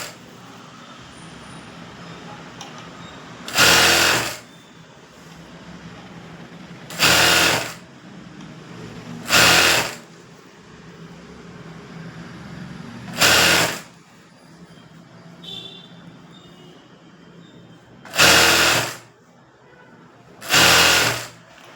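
Sewing machine stitching a blouse in six short, loud bursts of rapid stitching, each a second or two long, separated by quiet pauses in a small indoor space.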